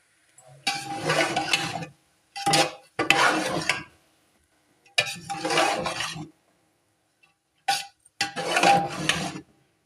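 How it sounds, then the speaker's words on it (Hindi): A utensil scrapes and stirs egg fried rice around a pan in several separate bursts of clattering, gritty mixing, with short silent gaps between strokes. "अब हम इसको मिक्स करते हैं, फिर बाकी के चावल डालते हैं।"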